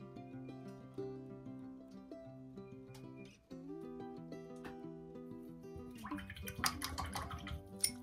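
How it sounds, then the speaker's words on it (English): Swishing and splashing of a paintbrush being rinsed in a water container, strongest in the last couple of seconds and partly masked by steady background music. "Wash that brush off."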